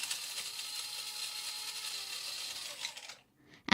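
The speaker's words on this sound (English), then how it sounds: "I will need a handful of cashew nuts and almonds, which I will grind into a fine powder" Electric grinder whirring cashew nuts and almonds into fine powder, a steady high buzzing hum lasting about three seconds, then cutting off to silence with a brief clatter at the end.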